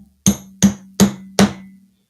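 A hammer strikes a leather working tool four times in a steady rhythm. Each blow is a loud, sharp, close metallic tap that rings briefly before fading, with silence between the hits.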